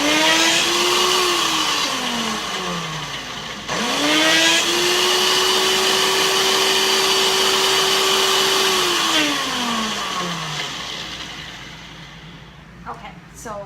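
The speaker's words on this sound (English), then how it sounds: "we're going to mix it up in the blender just like that" A blender whines loudly at high speed, its motor pitch rising and falling as it ramps up and down, with a brief clatter near the end.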